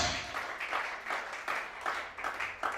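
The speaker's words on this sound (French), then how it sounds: "Acclamez cela." Congregation applauding during a church teaching service, a steady wash of clapping with rhythmic surges roughly every half second, moderately near and continuous throughout.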